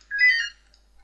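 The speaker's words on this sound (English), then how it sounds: "That was the phone." A single short electronic phone ring, a bright warbling tone lasting about half a second, clear against near silence.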